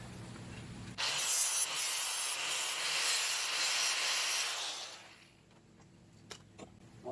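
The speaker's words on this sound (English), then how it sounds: "What we're going to have to do is grind those rivets off." Rivets are ground off the ignition coil bracket of a GM 4.3L Vortec V6, clamped in a vise, producing a loud, close, continuous abrasive hiss for about four seconds before it cuts off and leaves faint clicks.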